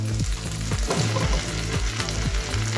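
Chopsuey vegetables frying in a pan with egg, stirred steadily, giving a loud continuous sizzle broken by regular scraping strokes from the spoon, close up and with no talking.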